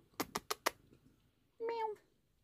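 A few quick taps on a laptop keyboard give way to a single clear, drawn-out meow from a house cat sitting near the laptop, close and fairly quiet.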